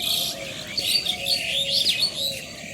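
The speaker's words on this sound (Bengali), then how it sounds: "গাছগাছালিতে পাখিগুলো কি কিচিরমিচির শব্দ করতেছে।" Many birds chirp and twitter in village trees at early morning, a busy overlapping chorus at moderate distance with a faint low coo beneath.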